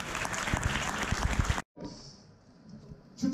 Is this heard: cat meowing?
no